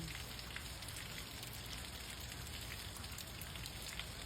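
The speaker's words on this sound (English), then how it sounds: "it's pouring down rain again" Heavy rain pours down steadily outdoors, a dense, even hiss of drops on surfaces that holds at one level throughout with no talk.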